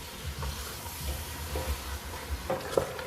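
Lamb meat fries for Afghan karahi, giving a steady close sizzle and hiss with the scrape and clatter of stirring, ending in a sharper clink.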